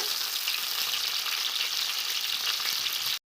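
Onions, tomatoes and green chillies frying in oil for a chicken curry, an even, loud hiss of sizzling held close and steady, then cutting off abruptly.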